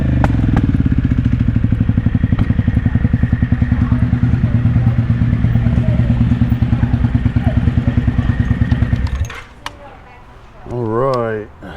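A motorcycle idles and rolls slowly over a gravel lot with a steady, loud, close-miked engine thrum for about nine seconds. It then cuts down, and a brief rising rev or whine follows near the end.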